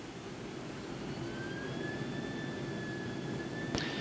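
Boeing 767-300ER on touchdown at London Heathrow runway 27L, reverse thrust and speed brakes deployed: a steady, loud jet engine roar with rising whine tones fills the cabin, ending in a sharp clunk.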